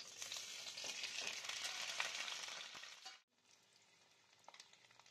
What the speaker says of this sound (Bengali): ওই তেলেই ডিমগুলো ভেজে দেব।